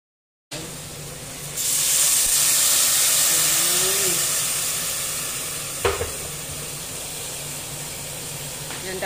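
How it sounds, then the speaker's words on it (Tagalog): Broth poured into a pan of sizzling sotanghon glass noodles, a steady close hiss and sizzle that swells as the liquid hits, with a brief clatter of utensils partway through. "Lagyan na natin yung sabaw."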